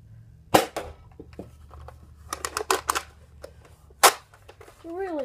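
Nerf Rival Apollo blaster firing foam balls that ricochet back: sharp loud shots and irregular clattering impacts of balls bouncing around a room, with a brief voice-like tone at the end.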